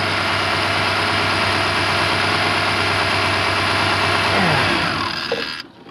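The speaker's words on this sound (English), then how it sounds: "if I disconnect this, it's going to kill the fuel pump voltage and the engine's going to die" A first-generation Chevrolet Astro van engine idles steadily and loudly up close, then stalls and falls silent near the end once the fuel pump circuit is disconnected.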